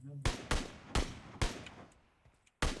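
Gunshots fired in PUBG Mobile, five sharp loud bursts spaced roughly half a second apart with a longer gap before the last, each cracking hard and decaying quickly.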